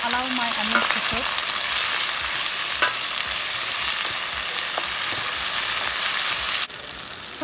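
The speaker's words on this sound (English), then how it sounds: "I've added my onions here. I'm going to allow my onions to cook." Onions cook in a pan for a mild curry mix with a loud, close, continuous sizzle, crackling evenly under a few light stirring knocks before the level drops slightly near the end.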